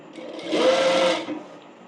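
A sewing machine runs in one short burst as it stitches the folded hem of an umbrella frock, whirring up quickly and stopping after under a second, close and clear.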